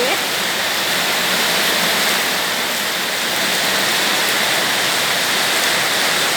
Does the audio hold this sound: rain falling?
yes